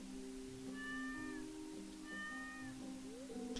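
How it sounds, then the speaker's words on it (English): Cats in the Stardew Valley video game give two clear, drawn-out meows about a second apart, with a brief higher mew at the end, over a soft steady game music bed. "I hear kitty cats."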